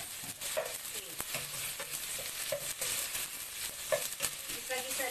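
Vegetables sizzle and fry in a hot pan while a utensil stirs them, a steady close crackle broken by scraping strokes, with no talking.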